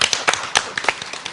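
Audience applause at a book concert, a brief burst of scattered hand claps from a small crowd indoors, fairly close and lively.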